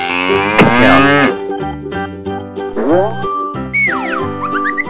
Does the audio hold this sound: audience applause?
no